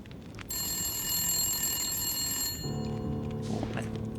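Telephone bell ringing in the video game The Long Dark, a sustained metallic ring lasting about two seconds, loud and close, then giving way to a lower tonal hum and rustling.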